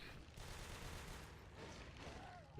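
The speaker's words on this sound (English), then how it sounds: "These are some really quick pistols, Velo." Quick-firing pistol shots in Natural Selection 2, fast and fairly faint, mixed under a commentator's voice.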